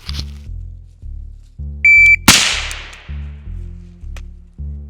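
At a shooting drill, a shot timer gives one sharp, steady electronic beep, then a loud gunshot cracks close by, all over a low, rhythmically pulsing hum.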